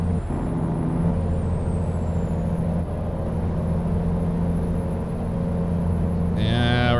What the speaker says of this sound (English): I'm using all Jake brake right there.